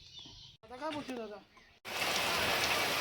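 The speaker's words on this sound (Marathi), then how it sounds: "हे बघा पाऊस चालू झालेला आहे" Speech is heard briefly, then steady rain hisses loudly and continuously, close and dense, filling the rest of the clip.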